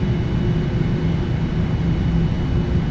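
Boeing 787 engines on landing approach in a flight simulator game, a steady low jet rumble with a faint constant whine on top, heard alone and unchanging.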